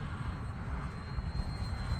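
An Arrows Bearcat RC airplane flies on a windy day, its motor a steady, continuous drone blended with rushing wind noise at moderate distance, with no talking.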